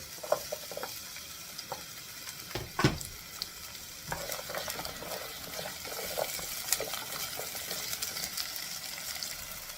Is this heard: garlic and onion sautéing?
yes